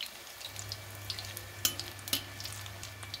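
Spinach pakoras frying in oil in a kadhai give a quiet, steady sizzle with small crackles and pops scattered across it, heard alone under a low hum.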